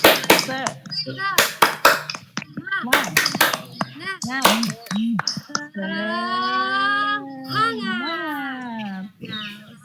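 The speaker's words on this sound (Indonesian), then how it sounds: "Kita coba ya. 1, 2, 3. Tepuk semangat." A group of adults at a teachers' training session does a rhythmic spirit clap, with sharp clustered claps in quick patterns alongside shouted voices. The clapping gives way to a long drawn-out vocal chant.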